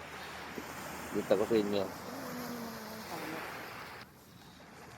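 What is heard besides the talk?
sea waves at Dilasag, Aurora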